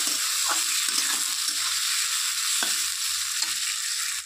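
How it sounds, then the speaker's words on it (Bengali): Onions sizzling in a pan with a little salt, a steady bright fry noise with a few soft stirring knocks, close and continuous with no talk. "পেঁয়াজটা একটু নরম করার জন্য দিয়ে দিচ্ছি অল্প পরিমাণে নুন দিয়ে ভালো করে নেড়ে চেড়ে"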